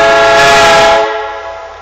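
A train blasts its horn close by near a railway tunnel, a loud, steady multi-tone blare that holds then fades away abruptly.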